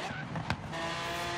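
A Lamborghini Aventador in Forza Horizon 3, tuned pink build, roaring at speed with a steady engine drone and a brief sharp squeal or skid burst midway, loud and continuous.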